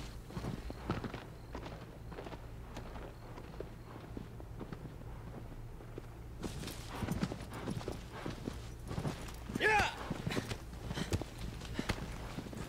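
Steady clip-clop of horse hooves at a walk in Shadow of the Colossus, soft and rhythmic, later joined by busier footfalls and a brief whinny-like cry.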